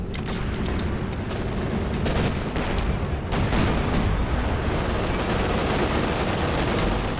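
Brummbar assault guns lobbing artillery shells in Company of Heroes 2, an unbroken din of battle with repeated booms and crackling gunfire layered close together at steady loudness.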